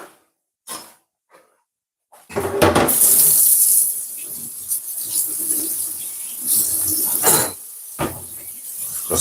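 A cutting board is rinsed under a running kitchen tap, with a loud, steady rush of water that lasts several seconds. Brief clatter and knocks against the sink come before and around it.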